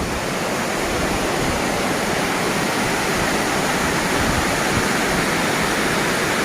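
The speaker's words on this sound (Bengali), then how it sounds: "তাই হচ্ছে এই দালাতের ওয়াটারফল।" Camly waterfall in Dalat, Vietnam, gives off a loud, constant roar of falling water that stays steady and unbroken, with no voices.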